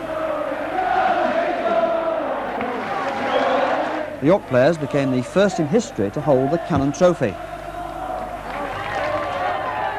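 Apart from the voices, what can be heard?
football crowd celebrating York promotion at Bootham Crescent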